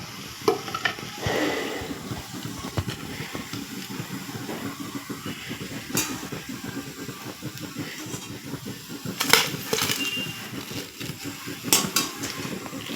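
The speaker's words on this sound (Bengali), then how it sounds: "বাকি বড়াগুলো আমি একইভাবে ভেজে নিব।" Jute leaf fritters deep frying in oil give a steady, dense sizzle and bubbling throughout, with occasional brighter crackles and scrapes standing out.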